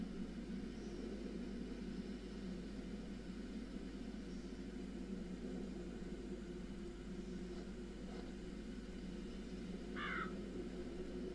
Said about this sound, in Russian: Привет, хули ворона